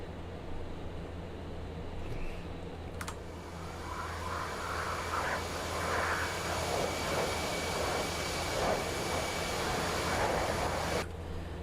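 An A-10C Thunderbolt's engines drone steadily in the DCS World flight game, a loud continuous jet roar with a whining tone as the throttle eases back, a brief click near the start, no voices.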